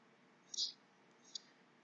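A computer mouse clicking the Next button, two quick, faint clicks under a second apart against near silence.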